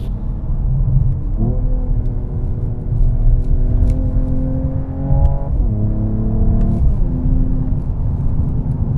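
A Mercedes-AMG CLS 53 sedan drives through corners, its engine note rising steadily through the revs and then dropping at each gear change, a loud, steady rumble heard from close by.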